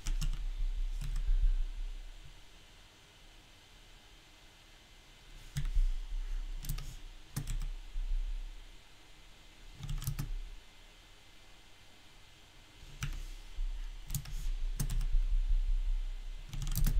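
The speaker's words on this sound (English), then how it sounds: "If you hear a lot of clicking, that's my keyboard." Logitech computer keyboard clicking in bursts of typing, close and moderately loud, separated by quieter pauses with low background hum.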